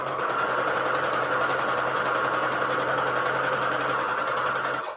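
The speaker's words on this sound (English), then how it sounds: "I'm just doing all straight stitch here. Okay. And let's sew down this line here." Sewing machine running steadily in straight stitch through a fabric journal cover stiffened with Peltex 72F interfacing, a continuous close hum with fast stitching chatter lasting about five seconds before stopping.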